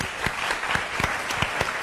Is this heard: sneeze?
no